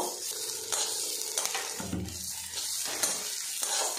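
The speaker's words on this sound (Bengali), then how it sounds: "নাড়াচাড়া করে পেঁয়াজটা লাল লাল করে ভেজে নেব।" Sliced onions stirred and fried in oil until reddish for an egg and pointed gourd curry; a continuous crackling sizzle runs throughout, with scraping and clinking utensil strokes against the pan.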